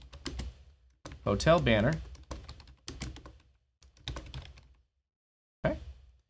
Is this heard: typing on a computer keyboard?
yes